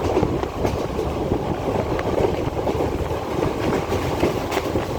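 A passenger train rumbles steadily along the rails at about 90 to 100 km/h with a continuous low roar and faint clattering of wheels, heard from inside at constant speed.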